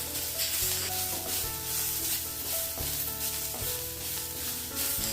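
Tomatoes fry with grated coconut and onion in a pan for a stuffed capsicum filling, producing a soft, steady sizzle beneath louder melodic background music.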